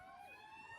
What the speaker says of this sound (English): You're getting some sirens because that is the correct answer